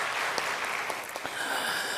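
Brief applause from a seminar audience at an international business and social science conference, a short patter of clapping with a few sharper claps, moderately loud and without speech.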